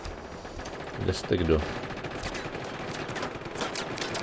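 Bursts of rapid gunfire in the video game Just Cause 3 crackle at moderate distance over a noisy background, while someone speaks briefly.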